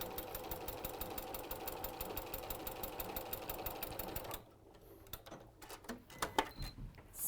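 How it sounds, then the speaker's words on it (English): A sewing machine stitches fabric pieces together in a fast, even mechanical rattle for about four seconds, close and steady, then stops, leaving faint clicks and handling sounds. "So all I'm doing is I'm just machining these together."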